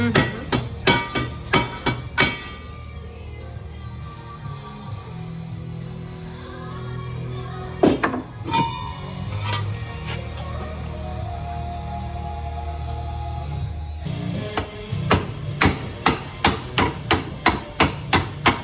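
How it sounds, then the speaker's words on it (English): Hammer blows ring out in a garage during an LS engine swap on a car: bursts of sharp metallic strikes in quick rhythmic runs, with a pause of lower rumbling noise mid-way before rapid hammering resumes. "Real finessey with the hammer, you know?"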